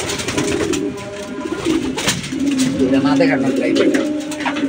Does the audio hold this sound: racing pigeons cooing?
yes